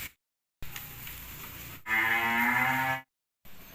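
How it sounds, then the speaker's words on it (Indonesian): Cattle in a supplier's stock pen mooing, a couple of loud, close, drawn-out lowing calls separated by short silences, with no talk. "Di hari ini kita ada 40 ekor sapi."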